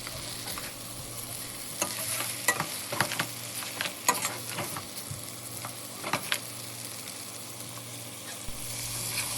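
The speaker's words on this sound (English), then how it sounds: "Add in a cup of milk and mix it well. And let it cook for about 3 minutes." Milk being stirred into a simmering tuna and vegetable spaghetti sauce in a pan, giving a steady soft sizzle with scattered scraping clicks of a utensil through the mix, with no talking.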